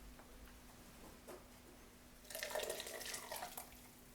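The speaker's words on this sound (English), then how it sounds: "The broth has simmered for 1 hour, so filter it." Seafood broth, simmered for an hour, poured through a strainer: faint background at first, then a burst of splashing, trickling liquid for the last couple of seconds.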